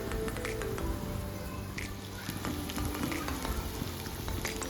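Peas and mashed boiled potato fry in a pan with a dense, steady sizzling hiss that runs unbroken throughout, with faint crackles scattered on top.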